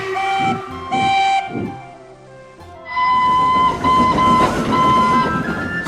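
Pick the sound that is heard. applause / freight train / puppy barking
freight train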